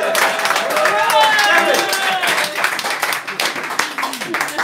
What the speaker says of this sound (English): a big round of applause for George